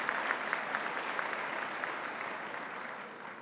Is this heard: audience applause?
yes